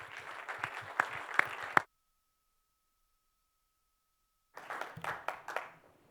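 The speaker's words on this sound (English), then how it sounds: "We don't usually hear the clapping on the radio." A studio audience at a Los Angeles radio event claps in scattered, uneven bursts with a few sharp individual claps, cut off abruptly into a pause and a faint steady tone, then resuming briefly.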